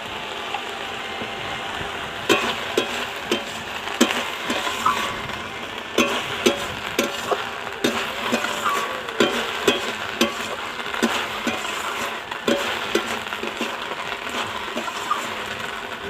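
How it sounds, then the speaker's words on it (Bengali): Water lily stems fry in oil in a pan, giving a steady close sizzle with scattered crackles and the scrape of stirring, with no voices. "শালুকটা বেশ কিছুক্ষণ তেল দিয়ে ভাজার পর আমার শালুকটা ভাজা হয়ে গেছে"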